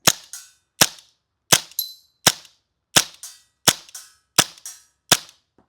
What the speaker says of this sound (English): I'm wielding it like the creator intended in 3, 2, 1. I gotta be honest, it's fun to shoot.